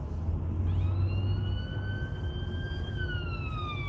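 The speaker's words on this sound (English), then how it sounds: "This is an ambulance as well." An ambulance siren wails steadily over a low traffic rumble at night in Wigan, UK, its tone slowly rising then dipping, moderately close.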